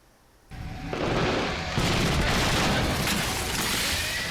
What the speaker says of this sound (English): The scene of the explosion happens too fast for a human to react.